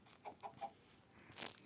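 A chicken in Minecraft Pocket Edition clucks softly three times in quick succession, followed by a brief scratchy rustle, all faint and without any talking.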